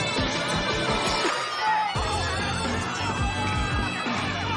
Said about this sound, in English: the audience and the Japanese also applauded and cheered for Qingdiayi